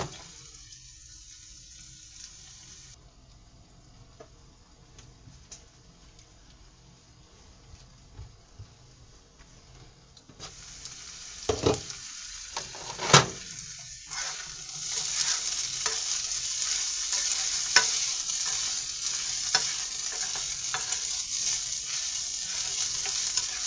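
Fried rice frying in a pan, a soft steady hiss that swells into a louder, denser sizzle partway through, with a few sharp crackles and pops and no voices.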